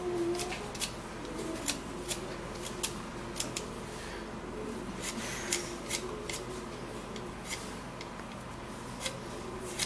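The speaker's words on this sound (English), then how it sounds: "So now I'm going to be peeling the ginger." Ginger root being peeled by hand in a kitchen, giving soft repeated scraping and rubbing with sharp, brief ticks at irregular intervals over a low steady background hum, close and fairly quiet.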